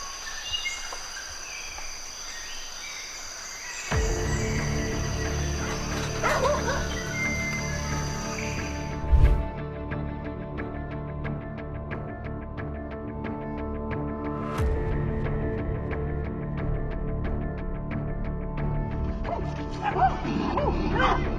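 A dog barks, yips and whimpers while villagers rescue it from a giant python outdoors. The cries come in repeated bursts over steady background noise, with one sharp loud yelp early on and faint voices here and there.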